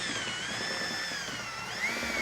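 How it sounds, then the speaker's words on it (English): A steady, continuous power drill whir runs throughout, a mixing attachment churning mead at constant speed with a slight rise near the end; no talking. "learning how to use the drill"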